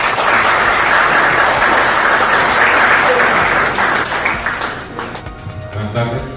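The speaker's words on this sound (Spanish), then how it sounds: "Recibimos con fuertes palmas" An audience at a university innovation talk applauds loudly to welcome a speaker, a dense, steady roar of clapping that tapers off near the end as voices begin.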